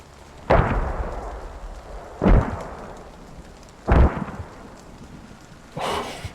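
Four mortar shells explode in a video game battle, each a heavy booming blast with a rumbling tail, spaced about one and a half seconds apart and landing at a moderate distance.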